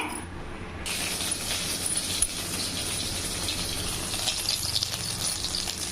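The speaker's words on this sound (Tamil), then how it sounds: "இதை வந்து நம்ம ஃபுல்லாக வடிச்சிட்டு கொஞ்சம் பச்சை தண்ணி ஊற்றி வாஷ் பண்ணி வச்சிடலாங்க" Cooked pasta being drained and rinsed with cold water, a steady rushing gush of water with faint rattling from the pot and strainer, continuous and close.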